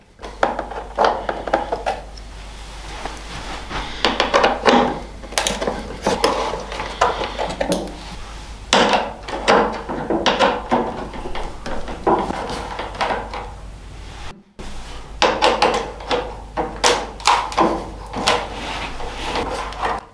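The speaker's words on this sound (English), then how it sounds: "we're going to remove these following 5 bolts on the top fairing here" A 5mm Allen key works the top fairing bolts loose on a 2023 CFMOTO 450SR, with a series of sharp metallic clicks, taps and rattles close by, repeated in irregular bursts with brief pauses.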